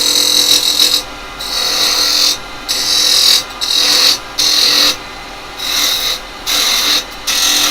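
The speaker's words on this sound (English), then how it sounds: "Now I'm going to use a small spindle gouge this time. 3/8 spindle gouge, okay." Wood being turned on a lathe with a 3/8 spindle gouge, cutting a vase shape from firewood stock: loud, close rasping scrapes in repeated bursts of about a second each, separated by short pauses.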